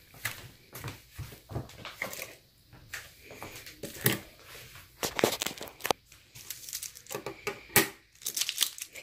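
Scissors snip and tear through a plastic package, with irregular crinkling, rustling and sharp cuts close up, mostly without talk.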